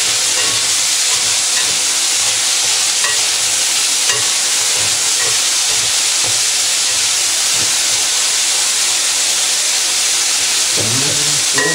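Pork meat fries in a pan, a loud, dense, unbroken hiss and sizzle that carries steadily through the whole stretch with occasional faint stirring knocks and no talking.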